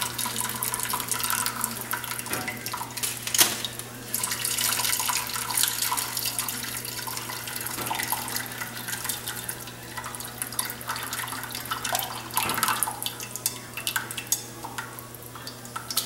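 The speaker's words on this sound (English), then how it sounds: "We're going to just cut a little slit in the bottom. Like that. We're going to drain all the juice out of there." Juice from a slit in the bottom of a package of beef short ribs trickles and splashes steadily into a pan, with scattered small knocks and clinks over a constant low hum.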